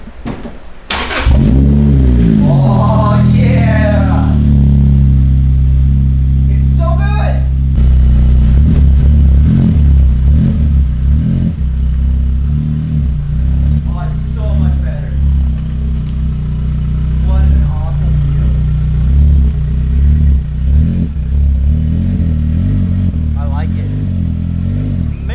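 A Lotus Exige fitted with a Janspeed Stage 2 exhaust starts up and revs repeatedly, with sharp rising blips over a loud, rumbling idle. Voices talk in the background at times.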